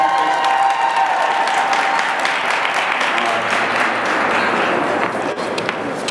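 A rally crowd applauds and cheers steadily at an outdoor higher-education rally in Harrisburg, Pennsylvania, with dense, sustained clapping close by and no break for the full stretch.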